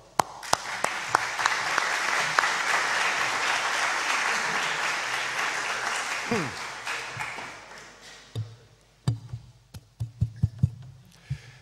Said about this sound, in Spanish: les pediría que me acompañaran en el agradecimiento a nuestros dos invitados con un pequeño aplauso